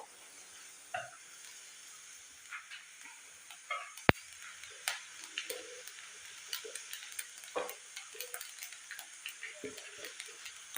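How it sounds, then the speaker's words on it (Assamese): Mustard seeds with split dried red chillies frying in a pan for a mango chutney, giving scattered sharp pops and crackles over a faint, steady sizzle, irregular and close. "সৰিয়হকেইটা ফুটিব লৈছে"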